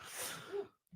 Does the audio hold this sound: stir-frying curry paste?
no